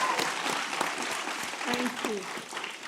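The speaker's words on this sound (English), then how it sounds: "So I want you all to give Ms. Rita Samuels a huge round of applause." An audience applauds at a Black History celebration event honoring civil rights living legends, with continuous dense clapping filling the room, fairly even in level, and a voice speaking briefly over it.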